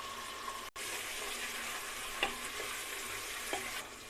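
Onion and garlic frying in a pan for a whole masoor dal: an even, soft hiss of sizzling oil, with a few faint scrapes and taps from stirring, and no talk.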